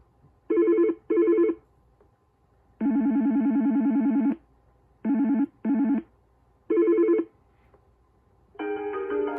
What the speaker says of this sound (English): This is my old ringtone.